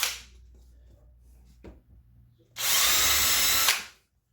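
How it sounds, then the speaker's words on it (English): Small power drill boring a hole in a gun barrel section, a single steady high whine lasting about a second, close and loud after a quiet stretch, then stopping abruptly. "I'm going to drill a hole in this."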